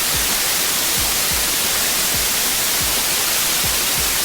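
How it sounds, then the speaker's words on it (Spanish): White noise sample playing steadily, a dense, even hiss spread across the whole range with constant loudness and no talk. "Y este sería el ruido blanco."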